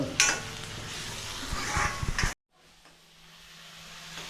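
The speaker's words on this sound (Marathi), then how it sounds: "कांदा चांगला फ्राय झाला" Onion frying in a pan, with a close crackling sizzle and a few scraping stirs that cut off abruptly halfway, followed by a faint low hiss that slowly builds.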